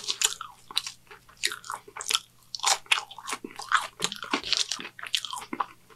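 Someone takes close, wet bites of a Burger King Whopper burger, with crunchy bites and steady chewing in an uneven rhythm. Nobody speaks.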